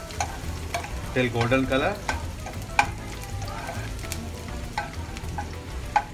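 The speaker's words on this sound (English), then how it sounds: "Now I'm adding chopped garlic in it. Start sauteing" Chopped garlic sautés in hot oil with curry leaves, a loud, steady sizzle with stirring scrapes throughout while someone speaks briefly over it.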